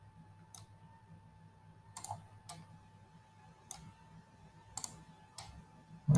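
Mouse clicks while selecting edges in CAD software: about seven crisp, close clicks at uneven intervals over a steady low electronic hum.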